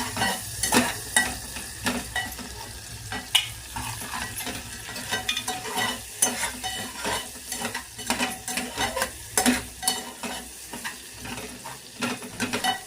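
Crab pieces fry with masala in a pan, sizzling beneath repeated rhythmic spoon scrapes and clacks that come in quick bursts, close and fairly loud, with no talking.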